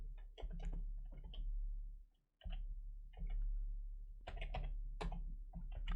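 Faint typing on a computer keyboard while coding JavaScript: irregular clusters of soft key clicks with a short pause partway through, close and quiet.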